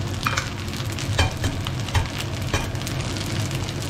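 Ground pork and egg fry in a pan with a steady close sizzle, broken by occasional clicks and scraping stirs, and no talking.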